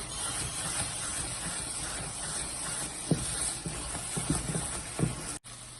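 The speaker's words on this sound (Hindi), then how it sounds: "इलायची पाउडर डालेंगे और चलाते रहेंगे इसको पकाएंगे" Gajar ka halwa with cardamom powder cooks in a pan with a continuous soft sizzle and hiss, and occasional scraping knocks come from stirring.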